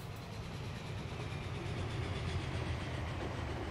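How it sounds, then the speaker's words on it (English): Freight train rolls past in a train simulator game, a steady broadband rumble with faint rhythmic wheel clatter holding at moderate level throughout, with no talking. "waiting on freight trains coming out"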